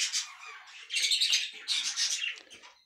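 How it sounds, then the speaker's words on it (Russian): Budgerigars in a birdhouse chirp and squawk in quick, bright bursts, close and fairly loud, with short pauses between chattering phrases. "Птица довольная."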